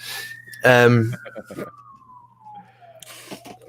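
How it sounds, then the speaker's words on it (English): An emergency siren wails outdoors in the distance, one long tone sliding slowly downward in pitch while a person talks over it in the foreground. "please shut up those sirens outside"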